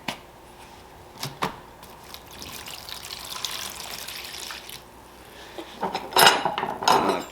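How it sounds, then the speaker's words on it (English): Vinegar poured over salt and stirred for reviving an old axe: a quiet trickling pour with light clinks and scraping from stirring, building to brighter splashing and rattling near the end. "Get you some vinegar in there."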